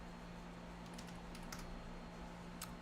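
Fingers typing on a computer keyboard, quiet scattered key clicks in small bursts over a steady low background hum.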